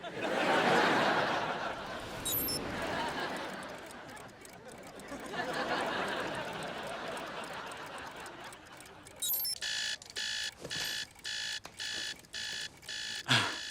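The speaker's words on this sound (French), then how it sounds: "J'ai réglé les réveils pour que l'un d'eux sonne à chaque minute." Rustling and muffled movement give way to an electronic alarm clock beeping in rapid repeated bursts, loud and insistent near the end.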